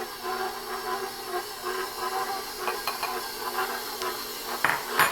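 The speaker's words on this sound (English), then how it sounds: "Add the 1¼ cup of the sugar" Sugar pours into a cheesecake mixture in a stand mixer bowl fitted with a paddle attachment, giving a soft, steady hiss with light clinks of the bowl, close and without talk.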